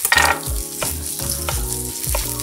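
Carrots and leeks sizzle in a pan with a bright, constant frying hiss, fairly loud and close, over a repeating low tonal pattern and no speech.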